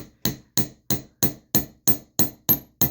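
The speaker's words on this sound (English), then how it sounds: "giving it a little bit harder hammering" A hammer strikes a wire earring frame in a jewelry workshop, giving about nine sharp, evenly spaced metallic blows, each ringing briefly before the next.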